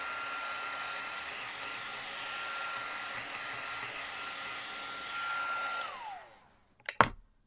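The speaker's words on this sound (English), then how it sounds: "Let me warm up my heat tool so I can melt that powder." A handheld heat tool blows hot air to melt embossing powder on a winter-themed card, a steady close whooshing hum that winds down near the end and is followed by a couple of sharp clicks or knocks.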